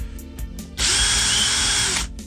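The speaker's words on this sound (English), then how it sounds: "spun my drill up" An electric drill clamped in a vise spins an engine valve against emery cloth during a Z20LET top-end overhaul, whining loudly and steadily for over a second after a few faint knocks.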